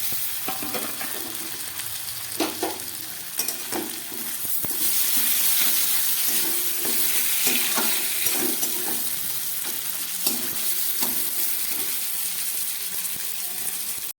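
Onions and then tomatoes fry in a pan, giving a steady sizzle that swells louder partway through as moisture hits the hot oil, with occasional stirring scrapes and clinks close by and no voices.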